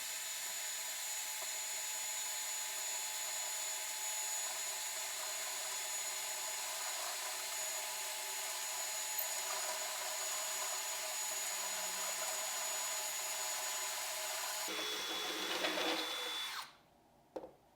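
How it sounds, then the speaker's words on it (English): A stepped drill bit grinds into a metal guitar pedal enclosure with a steady, faint, high-pitched whine, then briefly changes tone before cutting off near the end. "line up the bit, start slow, apply some pressure, and drill a few steps in."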